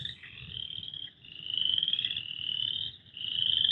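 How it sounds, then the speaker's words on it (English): Frogs croak outdoors in a Southeast Michigan state park, a dense, high, continuous trilling chorus that swells and briefly dips, with a faint low rumble underneath. "Frogs and birds and all sorts of little chirpers are out today."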